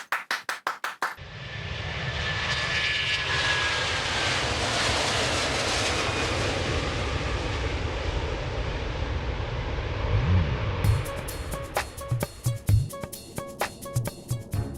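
Airplane engine roaring steadily and loudly for about ten seconds, swelling as it passes, with no talking over it and a few sharp clicks before and after.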